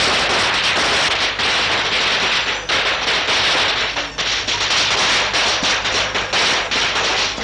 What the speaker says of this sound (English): what are all the firecrackers for?